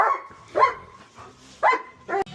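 Pet dogs bark in sharp, separate bursts, three or four loud barks with whiny pauses between, close by indoors.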